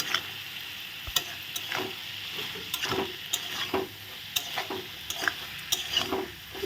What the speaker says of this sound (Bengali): এখন মটরগুলো আমি দিয়ে দিচ্ছি মটর দিয়ে আর একটু কষবে তো খুব ভালো লাগবে খেতে আমি এখন নাড়ে চেড়ে নিচ্ছি